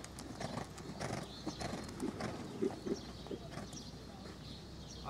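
Faint, irregular hoofbeats from a horse at a relaxed, active walk on a long rein after jumping an obstacle, soft and fairly distant under steady background noise.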